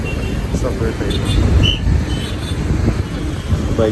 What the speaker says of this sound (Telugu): బైక్స్ అటు ఇటు కార్లు ఆటోలు